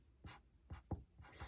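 Soft scratchy strokes of a pen on paper as the word cylinder is written by hand, four or five short, quiet scrapes in quick succession.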